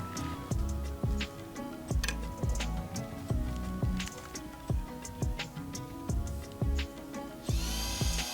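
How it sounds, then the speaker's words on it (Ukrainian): Rhythmic ticking and clicking as a small tool drills a hole through a metal coin for a fishing jig lure, regular strokes repeating throughout, with a brief higher whine near the end. "Свердлимо отвір для кріплення карабіну."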